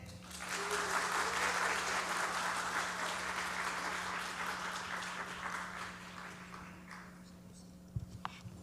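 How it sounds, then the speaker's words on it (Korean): A church youth congregation claps in sustained applause, dense and loud at first and then slowly thinning out. A low steady hum runs underneath, and a few sharp knocks come near the end. "우리 청년들 다시 한번 큰 격려의 박수 해주시면 좋겠습니다"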